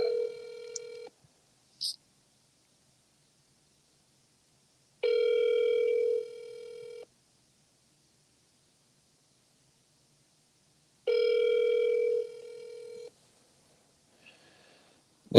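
A telephone call ringing through to a police department records line, with three separate two-part ring bursts spaced several seconds apart and silent gaps between them.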